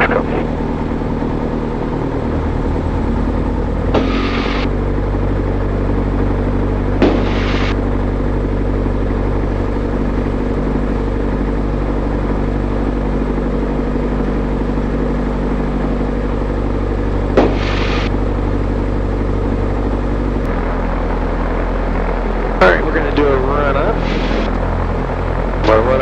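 Steady drone of a STOL CH 750 Super Duty light aircraft engine while taxiing, a loud continuous propeller hum with bursts of radio chatter and cockpit talk over it.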